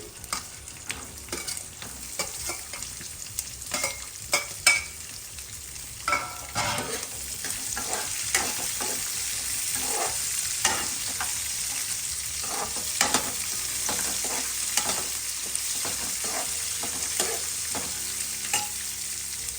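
Chopped onions fry and are stirred in a pan for upma, a continuous soft sizzle broken by frequent clicks and scrapes from the spoon, with no voices over it.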